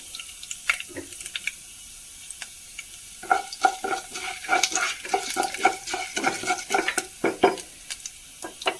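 Dried red chillies fry in oil for upma, starting as sparse crackles and building into dense, irregular spattering and popping, with occasional clinks of a utensil against the pan.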